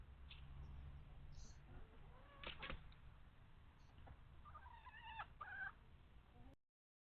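Chickens on a farm give faint, thin clucks and short cries over a steady low background hum, with a few squawks scattered through and the sound cutting off abruptly at the end.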